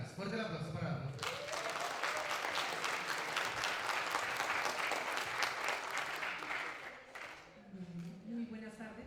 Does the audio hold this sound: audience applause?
yes